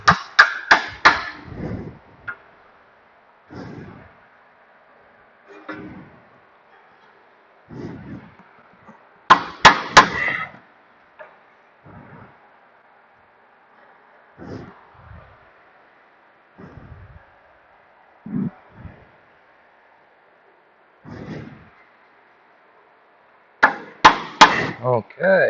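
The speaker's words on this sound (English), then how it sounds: "I'm going to use my hand as a hammer" Irregular bursts of dull, solid thumps, some in quick clusters, as a hand strikes a 1995 Honda Civic EX suspension wishbone like a hammer, separated by quiet gaps with a faint background hum.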